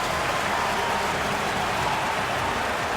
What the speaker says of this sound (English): And the crowd is popping off, paying tribute for what they recognize as 10 straight wins here at home.